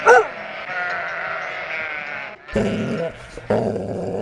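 Sheep bleating loudly nearby, a long wavering bleat followed by several shorter overlapping calls from the flock.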